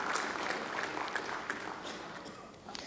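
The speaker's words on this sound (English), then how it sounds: "I think we should give them a big round of applause for all they've done for the country." Quiet, distant round of applause from the audience at a 2018 public forum on national unity, a soft, even patter of clapping that fades slightly toward the end.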